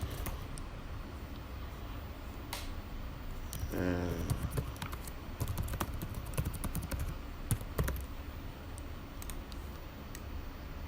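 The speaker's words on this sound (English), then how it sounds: "Next part, I want to type my email" Computer keyboard typing while an email address is entered during a business card design, a run of light, irregular clicks and taps over a low steady background hum.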